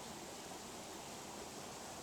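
A waterfall in the morning: a steady, dense broadband rush of falling water that holds an even level throughout, with no other sounds standing out.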